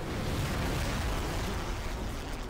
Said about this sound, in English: Oh god, he's doing his big explosion.